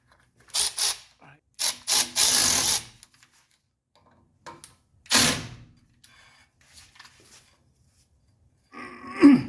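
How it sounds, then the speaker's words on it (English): A hand ratchet with a 13mm socket tightens bolts on the rear axle of a 1985 wagon, giving several short bursts of clicking with pauses between them, close by. "We need to tighten those back up with a 13mm."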